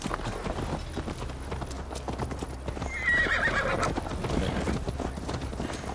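Horse hooves clip-clop at a steady gallop in the Viking-era game Assassin's Creed Valhalla, with a brief whinny around the midpoint, all over a continuous ambient game bed.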